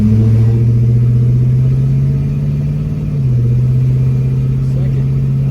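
A 1970 Pontiac LeMans engine idles in a steady low rumble as the car is put in drive and pulls away, its tone dipping slightly midway and holding close and loud throughout.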